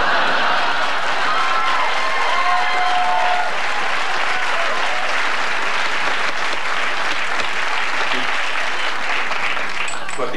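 Studio audience at a late-night television talk show breaking into sustained loud applause with some cheering, a thick continuous roar of clapping lasting throughout.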